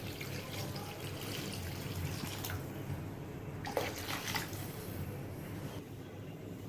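Water pours into a pot of fish and eggplant curry on a home stove. The sound is a steady, close, rushing flow that lasts the whole time with no talk.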